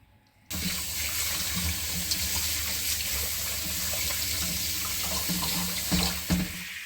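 Tripe for tripe soup being washed under a running kitchen tap: water starts abruptly and pours in a steady close splash, with occasional handling splashes toward the end.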